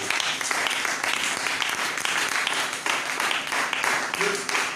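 Loud, sustained clapping from a church congregation applauding the Lord, dense and unbroken, with voices and cheers mixed into it.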